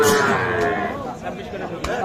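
A calf moos loudly and close by, a drawn-out bellow, over a background of chattering voices and general bustle at a cattle market in Bangladesh.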